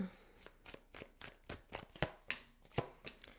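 Sharp, rhythmic clicks and slaps of a tarot deck being shuffled, about a dozen quick hits over a few seconds, fairly close and moderately loud, with no talking.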